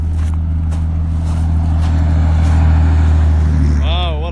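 A big vehicle rumbles past with a loud, low engine drone that swells and then fades, heard from close by the roadside during an ultra-cycling race, with a brief voice near the end.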